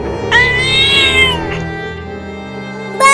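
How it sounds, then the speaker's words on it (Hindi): A big cat yowls loudly in a long, wavering drawn-out cry, followed by a quieter trailing wail and a brief final yelp at the end, with a low background hum underneath. "वहाँ पर एक बड़ी बिल्ली चिल्ला रही है।"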